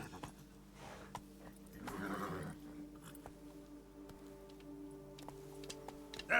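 Roach, a horse in The Witcher 3: Wild Hunt, gives a short neigh under quiet ambience while scattered hoof clicks tick along at an uneven pace.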